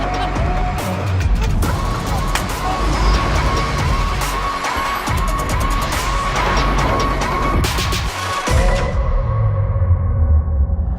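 Mercedes EQS electric car driving, a steady cabin hum and road noise with faint whirring tones that runs the whole time, with short knocks and rattles over it and people talking inside the car.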